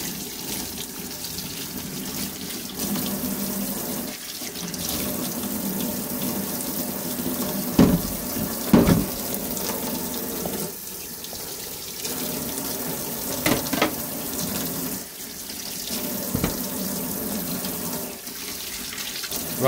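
Tap water runs steadily into a kitchen sink while vegetables for a cabbage-heavy sweet curry are washed, a continuous splashing rush with brief louder bursts and shifts as the stream hits the produce.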